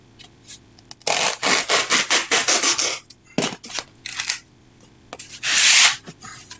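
Foam is cut to size for a kayak fishing jug line float, giving close, scratchy rasping strokes in irregular bursts with short pauses between them.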